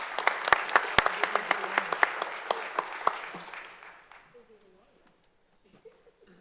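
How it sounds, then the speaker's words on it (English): An audience at a county commissioners' court meeting claps in a steady burst of applause with a few sharp nearby claps standing out. It fades out after about four seconds, leaving near silence with faint talk. "let's give a round of applause"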